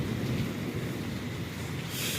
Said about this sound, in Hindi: बारिश बहुत ज़्यादा तेज़ आई है हमारे यहाँ पे सरगोदा में